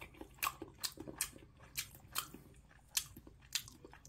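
Sea snail (conch) innards are chewed close to the mic, with wet, squishy bites and soft crunches coming in an irregular rhythm without talk.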